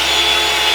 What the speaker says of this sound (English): And then you've got a nice hair dryer here.